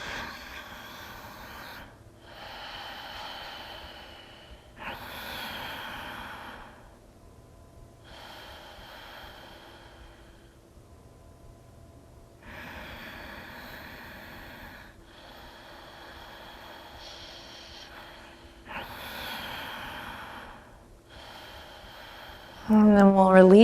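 Slow, soft breaths with audible exhales repeat through a yoga practice, close and quiet with short pauses between them. A louder sound comes at the very end.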